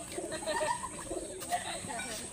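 Pigeons of the Fullsira and Abluk breeds coo softly at close range in a loft, with someone talking steadily over them.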